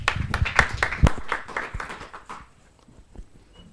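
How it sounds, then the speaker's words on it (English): A small audience at a conference talk claps for the next speaker, a loose patter of hands that starts fairly loud, thins out and fades to near silence after about two seconds. "please give a round of applause for Falco"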